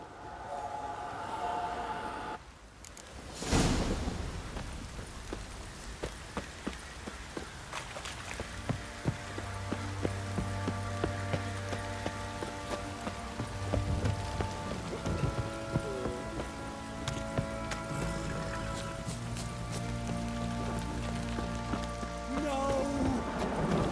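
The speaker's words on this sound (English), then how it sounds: "This downpour's a bastard" Heavy rain pours down steadily in The Witcher 3 with dense pattering drops, a sharp crack near the start, and faint tonal sounds drifting underneath throughout.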